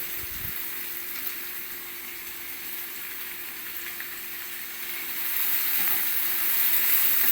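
Washed green onions hit a hot pan of oil, a close, continuous hissing sizzle that holds steady and then swells louder toward the end, with no speech.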